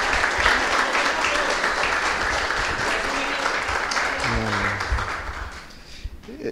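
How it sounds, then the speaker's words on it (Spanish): Steady applause from a crowd fills the space, sustained throughout, with a brief voice near the end as the clapping thins. "un aplauso a doña Marlen, a doña Rosa, a don Guillermo,"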